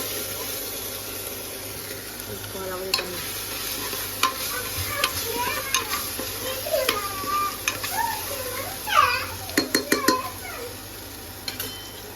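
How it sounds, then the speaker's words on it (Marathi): Daliya pulav with pulav masala is stirred in a pan, giving soft sizzling under irregular spoon scrapes and clinks against the pan, close by. "पुलाव मसाला, पुन्हा सगळं मिक्स करून घेते"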